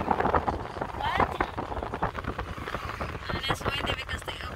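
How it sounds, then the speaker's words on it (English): Wind rushing through an open car window on a night drive home through a neighborhood, a steady loud buffeting roar that fills the whole clip, with people talking faintly under it. "Oh, it's windy because we opened the window of the car."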